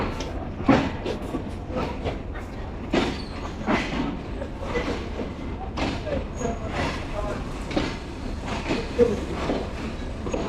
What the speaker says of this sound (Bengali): খুলনা থেকে রূপসা এক্সপ্রেস ট্রেনটি ছেড়ে দিল